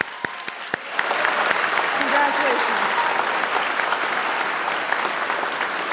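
Audience applause at a spring college commencement ceremony at SUNY Westchester Community College, a dense, steady roar of many hands that swells after the first second and holds, with a voice speaking briefly over it.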